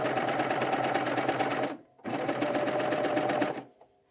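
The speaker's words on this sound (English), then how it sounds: "I'm gonna hold it and start stitching" A serger sewing machine stitches through fabric with a fast, steady whir, running in two loud bursts separated by a brief pause, then stopping with no talk over it.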